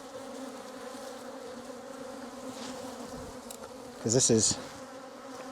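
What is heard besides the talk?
swarm of honey bees buzzing, upset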